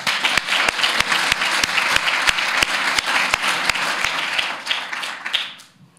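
An audience at a literary festival's opening reception applauds the interns, a dense, steady wash of clapping with a few sharp individual claps that fades out over the last second.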